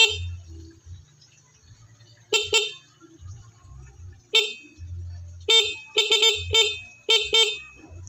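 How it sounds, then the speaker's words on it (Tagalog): Several short, sharp motorcycle horn beeps honk close by, some in quick pairs, over a low idling rumble with occasional quiet talk. "Tapos pwede na nyo nang paganahin yung ating busina."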